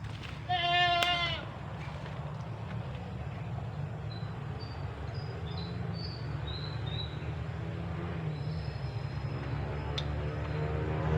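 A single goat bleats once near the start on a farm. Birds chirp faintly and a low rumble of background noise runs steadily throughout.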